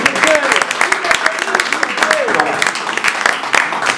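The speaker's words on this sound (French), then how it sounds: "Encore un tonnerre d'applaudissements pour le roi d'Afrique." Press-conference audience applauding a Congolese music star ahead of a Paris concert, with brisk crowd clapping mixed with cheering voices and a voice over it.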